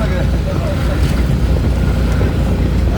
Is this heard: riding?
yes